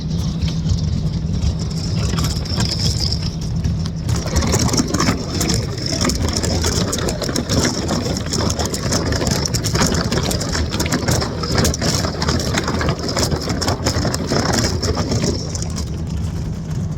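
A fishing boat in northern Minnesota in November idles through quarter-inch ice, with a constant engine drone under continuous crunching and crackling as the hull breaks the thin sheet.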